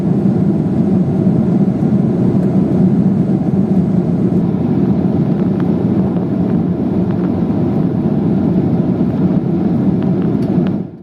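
Cabin of a Turkish Airlines airliner cruising over Pakistan: a loud, unbroken low roar of engines and airflow that holds steady throughout and cuts off abruptly at the end.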